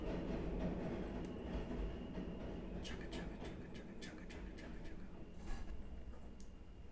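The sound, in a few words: train passing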